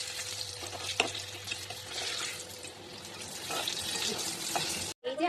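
Green banana fritters fry in hot oil, a dense, continuous crackling sizzle close by with small pops, briefly cutting out near the end before resuming.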